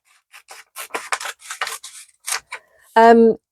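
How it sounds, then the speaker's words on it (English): Scissors cut book paper for a craft ice cream cone, with a run of short crisp snips and rustles close by. A brief tonal hum follows at the end. "So I'm just going to cut it."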